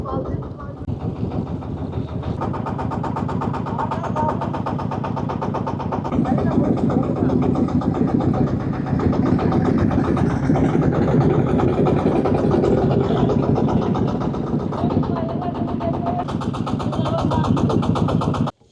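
A river boat's engine chugs steadily as the boat pulls in to dock, a close, rhythmic mid-pitched throb that grows slightly louder midway and continues without pause to the end.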